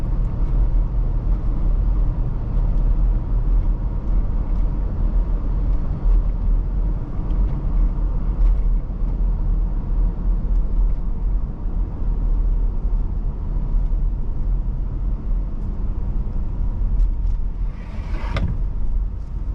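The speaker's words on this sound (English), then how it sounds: "Sounds so good. I do miss daily driving a V8" A 1999 Toyota Land Cruiser V8 on the move, giving a steady low engine drone and road rumble from inside the cabin, with a short rattle or sliding sound near the end.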